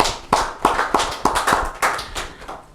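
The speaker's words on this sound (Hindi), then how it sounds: "तो इनके लिए एक और जोरदार से तालियां हो जाए" Audience at a Rajasthan Parishad 'Meet the Icon' event claps in distinct, fairly even beats, the close sharp hand claps coming roughly three per second and never blending into a dense wash.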